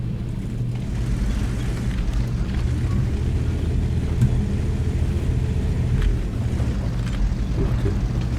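A single heavy gun boom from a French AMX AC 46 tank destroyer in a tank video game cuts through a steady low engine rumble, with a few fainter thuds after it.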